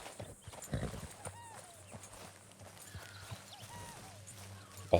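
Horse hooves clip-clopping in Red Dead Redemption 2 near a camp, fairly faint and irregular, with brief whinny-like tones and quiet voices talking at a low level.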